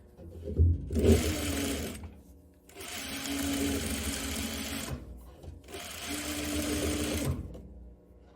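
A sewing machine hemming a tie top garment runs in three steady bursts of a few seconds each, with short pauses between them and some handling noise before the first run.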